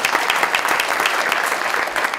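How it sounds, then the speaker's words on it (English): Audience applause at a chamber of commerce legislative breakfast, steady and full clapping from a sizable crowd, loud and close, lasting a couple of seconds with no talking. "Have a round of applause for them."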